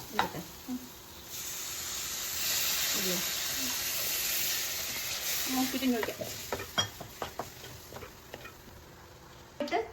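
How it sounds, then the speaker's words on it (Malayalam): Water pours into a hot pan of mushroom curry with a rising hiss and sizzle, followed by scattered stirring clicks and a faint voice in the background. "വേണ്ടത്ര വെള്ളം ഒഴിച്ചു കൊടുക്കാം"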